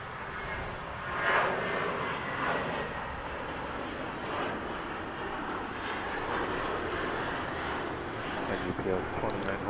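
A UPS heavy jet rolls on an LAX runway, a steady broad engine roar that holds at moderate loudness from a distance, with people talking throughout.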